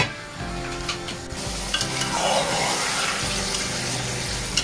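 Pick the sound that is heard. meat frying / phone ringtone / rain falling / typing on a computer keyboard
meat frying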